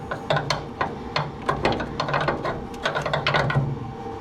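Gas struts being removed from a Porsche 911 bonnet, with a run of close, sharp metallic clicks and ratcheting taps in irregular bursts over a steady low hum.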